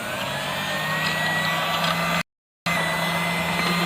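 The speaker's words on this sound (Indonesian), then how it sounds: "Jadi ini kita mixer dulu pakai speed rendah dulu aja." An electric mixer kneads donut dough at low speed, a steady motor whir with mechanical hum, broken by a brief silent gap before resuming.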